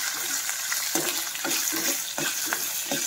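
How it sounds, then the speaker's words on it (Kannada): Roasted gram, dried red chillies and tamarind frying in a drop of oil, a continuous close crackling sizzle with rhythmic stirring scrapes every half second, no talk. "ನೋಡಿ ಇದೆಲ್ಲ ನೀಟಾಗಿ ಒಂದು ಸ್ವಲ್ಪ ಫ್ಲೇಮಲ್ಲಿ ಬಿಸಿಯಾಗಿ ಫ್ರೈ ಆಗಲಿ"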